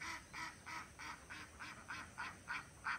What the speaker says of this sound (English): I got ducks here in the rice fields.